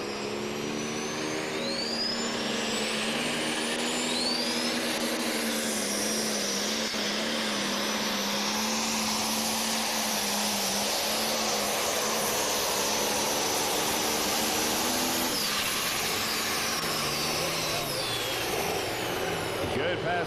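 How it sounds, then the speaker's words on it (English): Adrian Cox's Hickory Hooker pulling tractor roars through a pass at a tractor pull in Osceola, Iowa. The powerful engine drone is loud and sustained, with a high turbine-like whine and shifting pitch, and an announcer talks over it. "The Cox Motorsports sponsored tractor."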